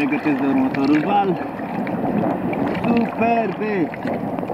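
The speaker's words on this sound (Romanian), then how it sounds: "Superbe valuri!" Waves break and rush at Eforie Nord beach in Romania, a steady close wash of surf under wind noise, with voices calling out over it.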